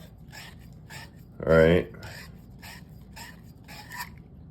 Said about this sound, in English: I clean up the end of that pipe far enough for when this fitting is going to go in.